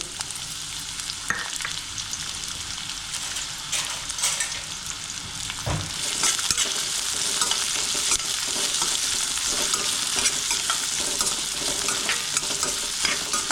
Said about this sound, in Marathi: कांदा शिमला मिरची गाजर यांना आपल्याला हाफ फ्राय करायचे आहे